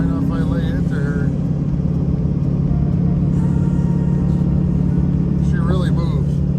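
An LLY Duramax diesel stock pickup truck with Banks intake and ram air, in fifth gear, pulls hard with a loud, steady low engine drone and rumble, someone talking over it.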